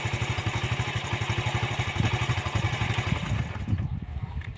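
A motorcycle engine that has just been started idles with a fast, even, loud putter that stays close the whole time, with a light clatter under it and no talking.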